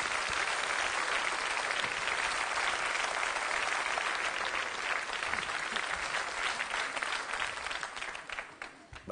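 Sustained audience applause for a youth choir from the Paolo Grassi school at a live Italian comedy show, dense rapid clapping that holds steady, then thins and fades near the end.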